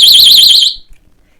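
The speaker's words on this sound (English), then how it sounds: "it has a feature that has a loud alarm" A loud personal safety alarm with built-in pepper spray gives a piercing, warbling electronic siren for just under a second, then cuts off abruptly into near silence.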